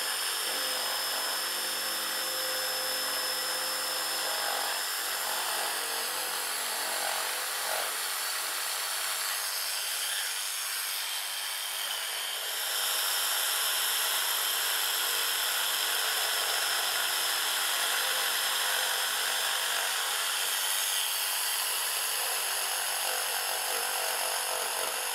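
A saw cutting through wooden crown molding during installation gives a loud, continuous, close-up rasping roar that holds steady the whole time, with no voices.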